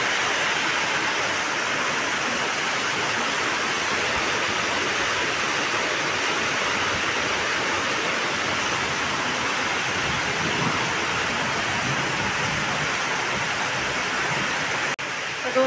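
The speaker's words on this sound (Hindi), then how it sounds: "देखो इतनी तेज़ बारिश लगी हुई है" Heavy rain pours steadily and loudly in a dense, unbroken hiss with no pauses, close by and drowning out other sounds throughout.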